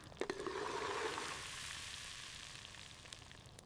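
Goat meat sautéing in a hot pan gives a steady, close sizzle that swells briefly near the start and then settles into an even frying hiss with no talk.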